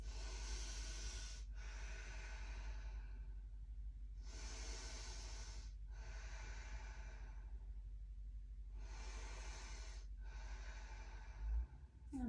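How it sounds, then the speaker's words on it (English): Slow, deep yoga breaths during a gentle balance flow class, three long airy inhale-exhale pairs with steady pauses between them, close and clear, with no talking. "Deep breath in. Deep breath out. Take 3 more breaths."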